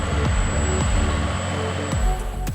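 A 525-horsepower Challenger tracked tractor pulling an 18-meter Bourgault air seeder across Siberian farmland gives a steady, loud engine drone with a constant high whine, and repeated short low thumps run under the hum.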